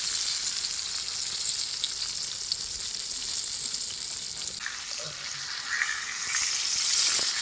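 Roopchand fish fries in a pan in a village kitchen, with a steady, close hiss of sizzling oil that swells slightly near the end, and no talking.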